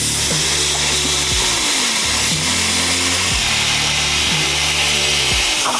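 A power tool saws through the reconstructed steel front bumper of an off-road wrecker truck, a loud, steady grinding drone with rising and falling pitch as the blade bogs and recovers through several cuts.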